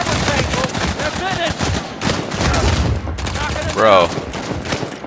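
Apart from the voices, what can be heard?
gunshots in video game Uncharted 4 multiplayer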